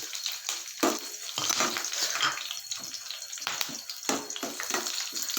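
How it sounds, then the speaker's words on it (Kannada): Curry leaves and green chillies crackling and spitting in heated oil in a pan, a dense close hiss broken by sharp pops and splutters that flare and ease throughout. "ಇವಾಗ ಎಣ್ಣೆ ಕಾದಿದೆ ಇದಕ್ಕೆ ನಾನು ಕರ್ಬೇವು ಹಾಕ್ತಾಯಿದ್ದೀನಿ ಹಸಿಮೆಣ್ಸಿನ್ಕಾಯಿ ಹಾಕ್ತಾಯಿದ್ದೀನಿ"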